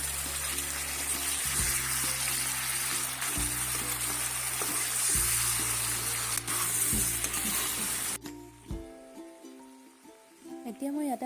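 Capsicum and potato pieces fry with pork in a pan, a dense, steady sizzle with occasional stirring that drops away sharply near the end.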